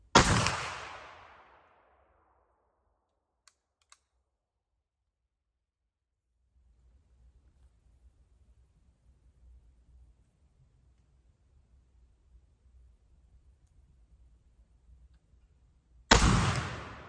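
Black powder shot from a 45/70 Buffalo Classic rifle loaded with 100 grains and a ball: a loud, sharp blast at the start with a long decaying tail, then near silence with faint low rumble, and another blast cut off at the end.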